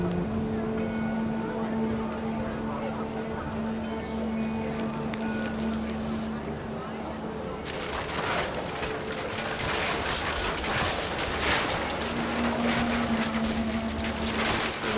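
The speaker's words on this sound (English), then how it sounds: "Rain came down in buckets then," Steady heavy rain in the video game What Remains of Edith Finch hisses throughout, growing denser about halfway, with a low engine-like hum running underneath.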